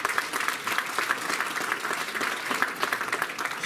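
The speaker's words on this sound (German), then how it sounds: "und auch das ist ein Applaus hier." A crowd claps steadily at the "Otto macht Mode 2016" fashion show as top athletes walk the catwalk, with dense, even applause sustained throughout at moderate distance.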